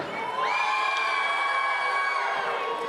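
Loud, sustained cheering and shouting rises from a wrestling audience in Saint-Ambroise, a dense wall of voices with whoops that swells early and holds steady to the end.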